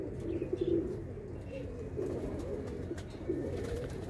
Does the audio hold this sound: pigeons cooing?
yes